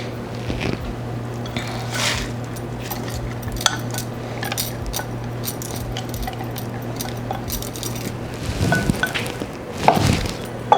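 Peas go into a pot of vegan vegetable soup, making scattered clatters and metallic clinks against the pot, with a louder flurry near the end over a low steady background hum.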